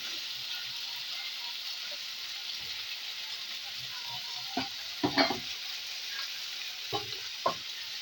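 Potatoes with meat masala fry in a pan for alur dom, a constant sizzle near at hand, broken by several scraping, knocking stirs of a spoon against the pan in the second half.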